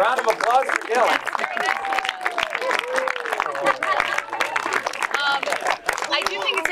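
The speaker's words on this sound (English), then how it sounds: "Round of applause for Dylan." An audience claps and cheers in a steady burst of applause, with voices talking over it throughout.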